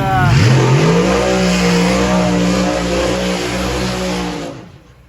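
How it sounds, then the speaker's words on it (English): Race car at a drag strip doing a big tire burnout, loud and close: the engine revs up sharply, then holds a high roaring note over squealing tires before fading at the end. "I'll do a big fat burnout"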